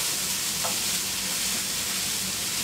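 Goulash with cabbage and sweet corn being stirred in a hot pan, a dense close sizzle with soft scraping from the spoon, steady and continuous with no talk.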